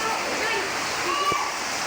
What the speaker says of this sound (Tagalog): pumasok na po sa loob ang tubig dahil natulo ho ang bubong